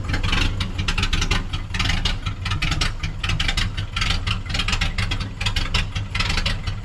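A 1932 three-window car's engine idling in cold weather, a steady low throbbing rumble with fast even pulses, close and fairly loud throughout with no voices.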